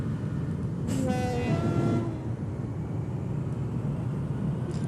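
A Berkshire steam locomotive begins to move in the Rails Unlimited train game, with a short whistle-like tone near the start over a steady, continuous rumble.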